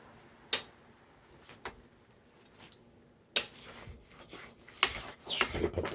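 A utensil scrapes garlic across a pan during a kale and spinach stir fry, sparse soft scrapes and taps early, then a busier cluster of quick scraping strokes close by, with no talk.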